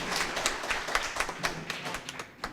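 Soft, fairly sparse clapping from a mushaira audience at a poetry gathering in Phulwari Sharif, Patna, with scattered individual claps rather than a full ovation, moderately quiet and steady across the moment.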